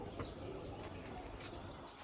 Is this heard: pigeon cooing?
yes